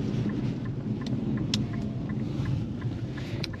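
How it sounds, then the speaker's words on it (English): A 2015 Infiniti Q50 Hybrid Sport accelerates at full throttle, heard from inside as a steady low engine and road rumble with wind noise and faint ticks, no talking. "I mashed the throttle right here."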